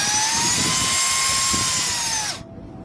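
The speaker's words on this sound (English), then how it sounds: "This is a wireless vacuum cleaner for you to use." A BAYU 2 Pro wireless car vacuum cleaner runs with a loud, steady high-pitched motor whine, then switches off and winds down abruptly near the end.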